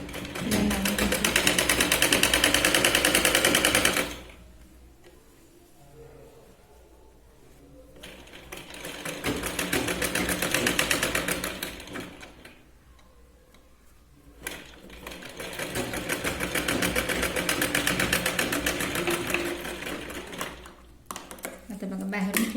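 Sewing machine stitching two layered katori blouse pieces together, running in three sustained bursts separated by quieter pauses where a voice talks softly.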